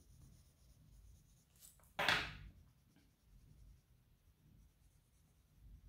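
Prismacolor colored pencils rub across Gibbs Smith paper, giving one brief, scratchy stroke that stands out from soft, faint background noise.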